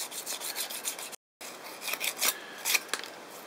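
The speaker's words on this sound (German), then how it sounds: "nehme ich mir jetzt hier ganz feines Schleifpapier und schleife den ein letztes Mal an" Close, dry rasping strokes of fine sandpaper rubbed quickly back and forth over a wooden fishing lure, with a brief silent break midway.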